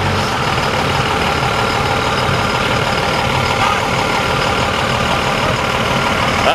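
A Cummins turbo diesel engine at a muscle car show runs loud and continuously nearby, with a steady low idle rumble throughout.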